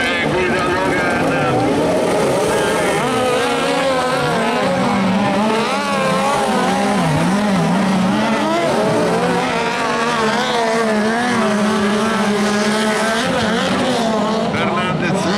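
Cross cars racing at the FIA European Autocross Championship in Maggiora, their engines whining and revving in wavering, overlapping tones for a continuous loud stretch, with commentary running underneath.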